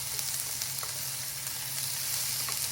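Egg noodle stir-fry ingredients hit a hot pan and sizzle loudly and steadily, a dense crackling hiss that carries on without a break, with no voices over it.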